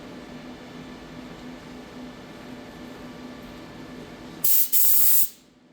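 An air compressor runs in a machine shop beside a Doosan DN SVM 4100 machine, giving a steady low hum, and near the end a loud, close burst of hissing air cuts in twice before dropping away.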